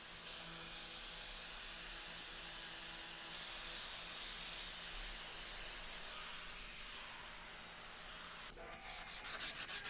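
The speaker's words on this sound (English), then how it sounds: "I then switched to a grinder with a very flexible sanding pad." An Arbortech grinder fitted with a very flexible sanding pad works over a wooden shelf, giving a steady, close, continuous abrasive whir and rasp with no talk, shifting slightly in tone near the end.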